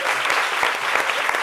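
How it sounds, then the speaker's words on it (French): A studio audience claps loudly and steadily on a French midday show, a short burst of dense, continuous applause with no talking over it. "on applaudit très fort"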